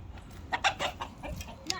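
Hens cluck close by in a handful of short, quick clucks over a quiet outdoor background.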